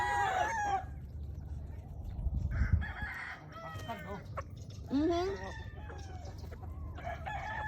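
Chickens cluck and call in a busy flock, with a rooster crowing nearby amid steady background noise.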